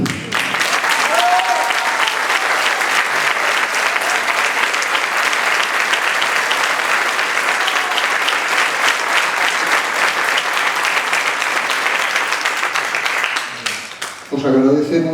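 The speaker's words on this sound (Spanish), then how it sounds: "Os agradecemos los aplausos que nos habéis regalado" Theatre audience at a jota festival applauding, a steady, full round of clapping that keeps going for about thirteen seconds before fading out.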